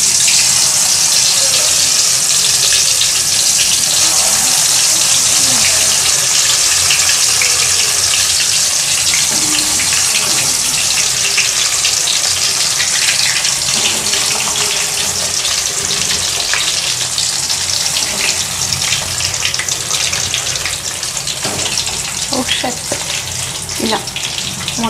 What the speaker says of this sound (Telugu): బాగా ఆయిల్లో ఫ్రై చేసుకోవాలి వంకాయల్ని